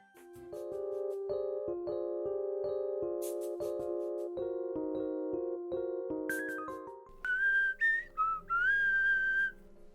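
The Grass Whistle move from a Pokemon video game plays as a melodic, tonal whistle tune with shifting notes, followed by a few higher, rising whistle bursts near the end, clear and alone with no talking.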